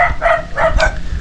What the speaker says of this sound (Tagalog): Ano yung aso?